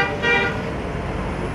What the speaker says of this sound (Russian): Сейчас водители в честь своего товарища сигналят.